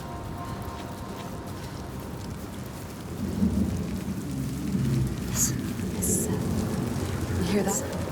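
Steady rain pours through a thunderstorm in the video game Hellblade 2: Senua's Saga, with rumbling thunder swelling midway and lingering beneath the downpour.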